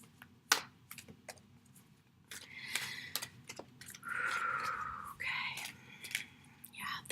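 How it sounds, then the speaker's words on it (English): Tarot cards are shuffled by hand in quiet, close riffles and taps, with soft scattered clicks and a longer rustling burst partway through. A faint hushed voice murmurs at times. "I'm going to keep shuffling because I would like to see it come in the cards"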